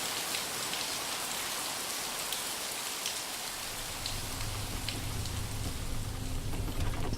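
Rain falls in the Moroccan Sahara as a dense, continuous patter of drops on surfaces. A low steady hum joins partway through, and no one speaks.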